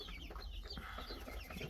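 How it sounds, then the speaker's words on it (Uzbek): Adler Serebro chickens, about two months old, clucking and murmuring together in a pen, a steady close flock chatter with overlapping soft calls and no talk. "mana tayyor tovuqcha bo'lib qolgan variantlari"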